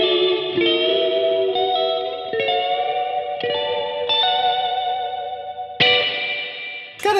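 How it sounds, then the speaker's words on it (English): Electric guitar played through a Strymon Bluesky reverb pedal set to a spring reverb, sounding a series of ringing chords, each struck cleanly and left to sustain with a lush wash before the next, loud and close. "Now the Bluesky is there just in case I need to bump up the reverb level"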